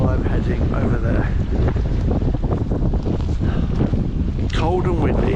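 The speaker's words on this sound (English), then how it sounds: "Cold and windy." Cold wind blows hard outdoors in the Scottish mountains, buffeting the microphone with a continuous loud rumble, while a voice speaks faintly beneath it.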